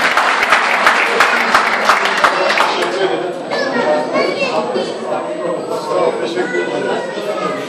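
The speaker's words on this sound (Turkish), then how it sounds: "Sayın Adil Dayıoğlu'nu alkışlarla davet ediyorum." At an association plaque ceremony, a crowd claps loudly to welcome a speaker, the applause dense at first and then giving way to mingled chatter and children's voices in the room.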